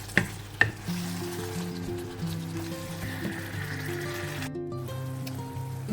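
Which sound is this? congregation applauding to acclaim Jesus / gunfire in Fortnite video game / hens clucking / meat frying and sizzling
meat frying and sizzling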